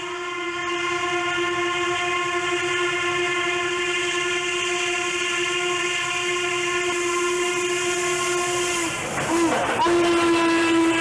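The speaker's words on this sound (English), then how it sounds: "this train was already on the move, going up grade on the Buckley sub." A train climbing a grade sounds a long, steady horn blast over the rumble of its movement, with a short break near the end before the horn resumes.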